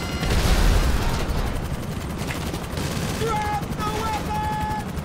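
Bursts of gunfire from an attack Osprey aircraft in a combat video game, loudest at the start, with rapid repeated shots over a continuous engine drone and some tonal beeps later.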